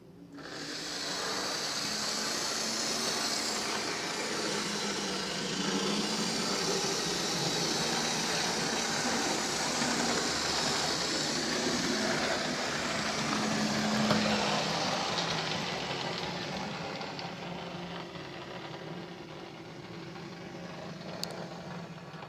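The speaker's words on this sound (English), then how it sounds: "We've got a Deltic coming in on some Mark 1 stock." Model Deltic locomotive fitted with a Class 50 power unit, hauling Mark 1 stock on a layout, gives a steady, moderately loud hum and hiss that holds throughout and eases slightly near the end, with no talk.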